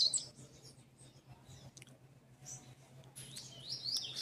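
Faint, scattered high chirps from small birds over a low steady hum, with brief bright calls near the start and end.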